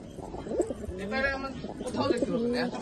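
A pigeon coos in low, rolling bursts close by, with people talking over it.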